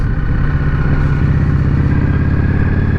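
A 2019 Indian Scout Bobber V-twin with a Brass Smoke 2-into-1 exhaust cruises with a loud, close, steady low rumble and pulsing engine beat, heard alone.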